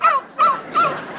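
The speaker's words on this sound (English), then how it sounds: "small dog, small dog." A small dog yaps three times in quick succession, each sharp bark evenly spaced and fairly close, with no talking over it.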